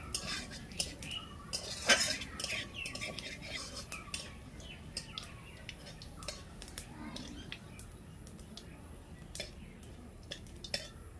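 Spoon or spatula scraping and clinking in a pan while bay leaves, a dried red chilli and whole cumin are stirred in hot oil, giving irregular metallic taps over a soft sizzle.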